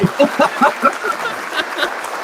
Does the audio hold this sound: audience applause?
yes